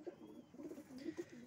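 Kalsara pigeons coo in a series of soft, low, rounded calls, several overlapping close by with no talk.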